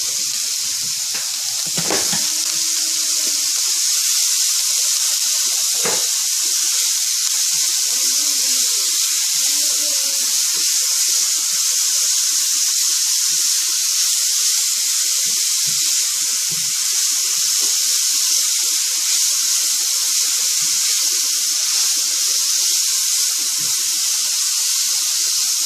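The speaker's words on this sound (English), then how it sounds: "Just mix thoroughly and saute until translucent." Garlic sautéing in a pan for a poblano casserole with rotisserie chicken, giving a loud, steady close sizzle throughout, broken by a couple of brief clanks of stirring.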